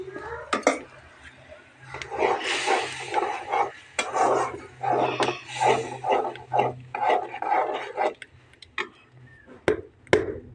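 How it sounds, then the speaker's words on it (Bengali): Prawns sizzle and scrape in a pan as they are stir-fried before pumpkin is added, with irregular spatula rasps and clinks of metal on the pan, loud and close throughout. "চিংড়ি মাছটা দিয়েও কষিয়ে নেব সুন্দর করে।"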